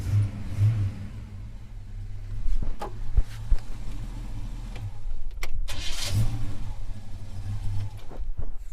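A Holden HK Premier wagon engine cranks with a new starter motor and catches, then idles and revs unevenly with a few sharp clicks and knocks, close by and fairly loud.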